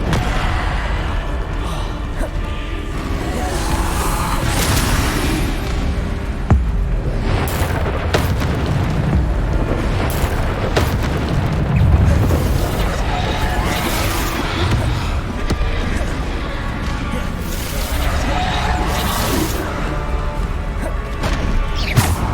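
Bombarda spell explosions from Hogwarts Legacy gameplay, loud booms and crashing impacts in a dense, continuous battle roar, with a voice calling out spells at times.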